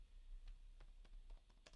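Keys clatter on a computer keyboard in a quick uneven run of soft close clicks, very quiet, with a low hum underneath and no talking.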